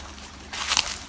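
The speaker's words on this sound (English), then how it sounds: "Beautiful little creek." A small creek along a forest hiking trail trickles and sloshes nearby, a soft steady water murmur that swells into a brighter splashing burst midway through.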